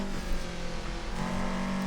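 A car engine drones steadily through a drifting run down the Akina downhill course in Assetto Corsa, a sustained loud engine tone with a rising pitch partway through and no voices over it.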